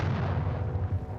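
Artillery barrage in World War I trench warfare: a low, continuous rumbling roar of heavy guns, dense and sustained through the short stretch without distinct separate blasts.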